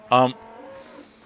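A cow in the Farming Simulator 15 video game lets out one brief, loud moo up close, followed by a low, quiet hum.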